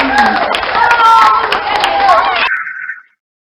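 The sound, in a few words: children clapping loudly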